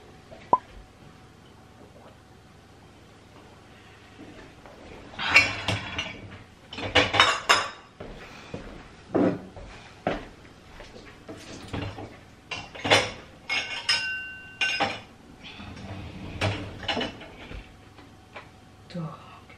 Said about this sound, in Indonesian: Dan ini kita start ya, mesin cuci piring. Ini piring-piring, gelas-gelas terakhir.